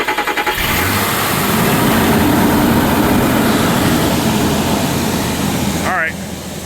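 A car engine with a faulty starter cranks roughly on a cold start, a stuttering grind that catches into a loud, steady idle before cutting off, with a brief voice near the end.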